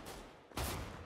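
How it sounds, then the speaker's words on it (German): A burst of enemy gunfire erupts midway through a Counter-Strike: Global Offensive round, loud and close after a quieter stretch of in-game ambience. "Oh, jetzt schießt er genau vor mir."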